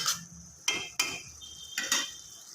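Stirring bhuna khichuri in a cooking pot, a few sharp metallic scrapes and clinks of a spoon against the pot spaced out over a quiet background.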